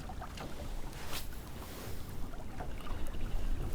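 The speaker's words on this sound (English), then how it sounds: "The wind is something fierce, folks." Strong wind buffeting outdoors during winter fishing, a rough continuous low rumble and roar of gusts across the microphone, rising toward the end, with no talking.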